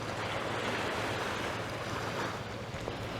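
Water laps steadily at a shoreline outdoors on a Christmas Day outing, a continuous close wash of small waves with light wind noise and no talking.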